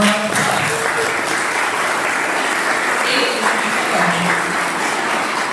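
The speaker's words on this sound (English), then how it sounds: "let's give these ladies one more round of applause" An audience at a 2023 women in business panel discussion applauds the panel speakers, loud and sustained clapping from many hands with a few faint voices mixed in.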